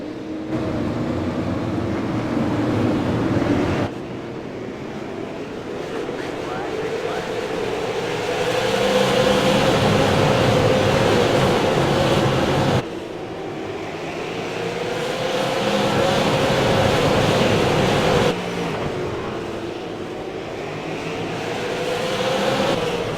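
Race cars in the iRacing video game heard from a wall camera at Lanier National Speedway, a loud sustained engine roar rising and falling as the cars sweep past in repeated waves.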